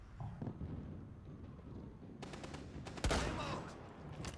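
Gunfire in the game Rainbow Six: a burst of rapid shots and one sharp loud crack, heard over a dull roar of background game noise, moderately close.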